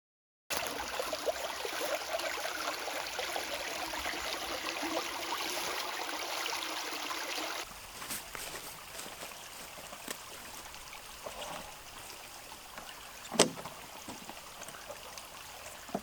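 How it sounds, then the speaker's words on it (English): A small woodland stream runs steadily in a broad continuous rush that softens after a few seconds into a quieter trickle, with a brief knock near the end and no speech. "Stream running all down here"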